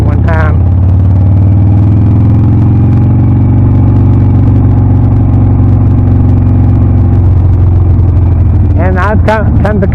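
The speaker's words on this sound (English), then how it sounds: "It's just where that motor shakes at a low RPM, just under a little bit of power." A 2006 Harley-Davidson Sportster motorcycle engine rumbles at low RPM, a loud, close, steady drone with a slight shake under light throttle, with brief wind and voice bursts at the start and end.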